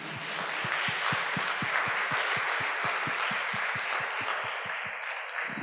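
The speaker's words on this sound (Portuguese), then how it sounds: "Vamos aplaudir o Senhor, amém?" A church congregation applauds at the close of a Pentecostal worship service, broad steady clapping with an underlying rhythmic beat of regular low thumps running beneath it throughout.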